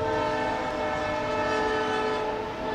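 A freight train horn blares in a sustained, loud, steady chord from a passing train near a high school football game in Pelahatchie, filling the whole stretch with continuous rail rumble underneath.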